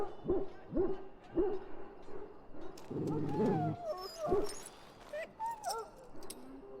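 A dog in a pen whimpers and yelps in Dragon Age: Origins, giving a series of short, plaintive whines and soft cries at moderate volume over a faint ambient background.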